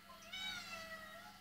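A single drawn-out cat meow, clear and fairly close, rising then gliding down over about a second against a quiet room background with no talk.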